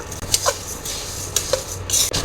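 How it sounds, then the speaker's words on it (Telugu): Dry ingredients scraped and stirred in a metal pan, with a few sharp clinks and rattles spaced irregularly over a quiet background. "రెండింటిని సిమ్లో ఫ్రై చేసుకుందాము"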